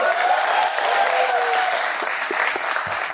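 A stand-up comedy audience claps for itself, a dense, even burst of applause filling the room steadily for a few seconds with no clear talk over it.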